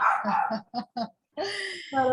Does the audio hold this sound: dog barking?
yes